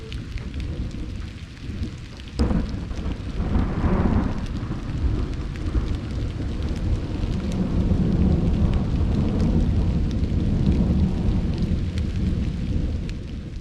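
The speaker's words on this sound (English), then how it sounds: "but it's nice to hear the storm." A thunderstorm at night over a campsite, with steady rain drumming and a sudden thunder crack followed by a low rolling rumble that fades into continuous rainfall.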